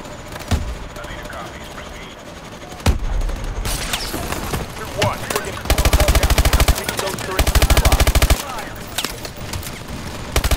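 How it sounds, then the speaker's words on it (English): Call of Duty: Advanced Warfare combat fills with loud bursts of automatic gunfire and scattered single shots, rapid machine-gun stretches hammering close amid explosions, with occasional voices in the mix. "I'm getting shot from just random directions"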